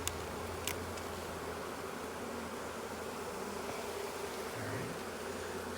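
Caucasian honeybees buzz steadily in a bee yard, a continuous low hum holding at an even level throughout with no voices.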